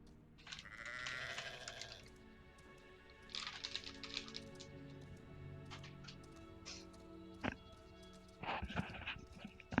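Sheep in the video game Hogwarts Legacy bleat in three separate bursts, a few seconds apart, with soft clicking and game ambience between the calls.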